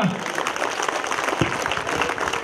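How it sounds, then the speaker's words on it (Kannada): An audience claps at a speech, a dense, continuous patter of many hands running the whole time at moderate level, with a voice briefly audible over it. "ಮತ್ತೆ ಚಪ್ಪಾಳೆ ಜೋರ ತಟ್ಬೋದಾ?"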